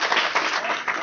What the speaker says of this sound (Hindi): ये सर ले सब बहुत जोरदार ताली